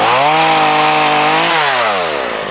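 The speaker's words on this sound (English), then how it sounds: "That chainsaw is struggling" A loud chainsaw drones close by, its engine pitch dipping and labouring as it struggles cutting into wood in a forest.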